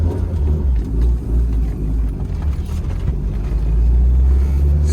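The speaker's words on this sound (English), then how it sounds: "I'm just gonna take it for a quick spin around the block." Rebuilt Dodge Shelby Turbo Daytona with a turbocharged engine and boost issues, driving on the street with a loud steady low engine rumble heard from inside the car, no talk.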